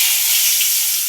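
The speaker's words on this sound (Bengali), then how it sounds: "একটু ফাটাইয়া দিয়ে, তাইলে তেলটা ছিটিয়া পড়বে।" Bay leaf and dried red chilies crackle in hot oil for a bottle gourd curry, a steady loud hiss of bright sizzle running unbroken and close throughout with no voices.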